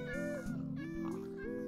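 A cat meows several times in quick succession in Minecraft: short, whiny, pitch-gliding calls, close and clear with no talking.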